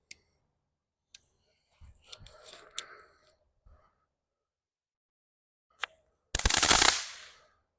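A crackling ball firework is set off in a backyard at dusk. Scattered sharp ticks and small pops lead to a brief flurry of crackles, then a loud, dense burst of fizzing crackle fades out over about a second.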